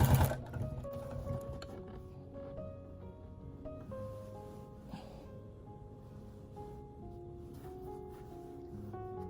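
A sewing machine quilting a garden quilt with a walking foot and quilting guide runs steadily and close by, a continuous mechanical hum with a louder start that settles into an even drone.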